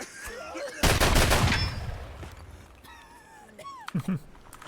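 Shotgun blasts in a first-person shooter video game, a dense burst of loud gunfire up front that fades into quieter scattered game sounds and a couple of short sharp shots near the end.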